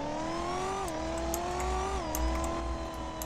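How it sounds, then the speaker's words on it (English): A car accelerating in the Roblox driving game Driving Empire, its steady engine whine climbing and stepping in pitch as the speed shifts, loud and continuous with no talk over it. "Y'all could change the car speed, as you can see."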